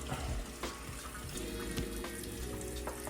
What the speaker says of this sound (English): Let's get my water turned on.